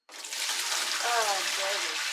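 Melted snow water pouring from a bucket in a steady rushing splash that starts abruptly and continues without a break, close and fairly loud.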